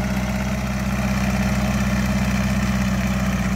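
A small tractor engine idles steadily up close, a low throbbing drone with an even mechanical pulse and no change in speed throughout.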